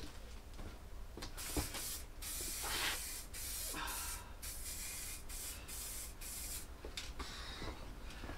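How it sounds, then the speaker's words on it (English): An aerosol can of paint sprayed while building a Unistrut roof rack for a Mercedes Sprinter van, giving a continuous hiss in repeated bursts separated by short pauses. "I do recommend wearing a mask when spraying paint."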